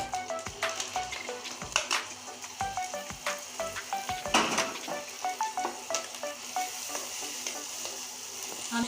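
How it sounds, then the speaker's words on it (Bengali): Garlic paste and onions frying in a pan, a soft continuous sizzle broken by regular scraping and tapping of a spatula stirring. "এখন আমার পেঁয়াজটা ভাজা হয়ে গিয়েছে আমি এখানে অর্ধেক রসুন বাটা দিয়ে দিচ্ছি"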